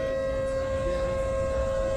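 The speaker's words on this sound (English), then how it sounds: "I hear sirens." A civil defense siren wails with a steady, sustained tone, heard from a distance over a low background rumble.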